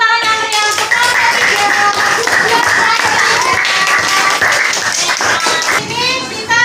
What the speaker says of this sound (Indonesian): kasih tepuk tangan yang meriah untuk kelompok